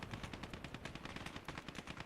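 Rapid automatic gunfire from the World War II strategy game Call to Arms - Gates of Hell: Ostfront, Finland campaign, a steady rattling burst of machine-gun shots with overlapping reports, loud and continuous with no talk over it.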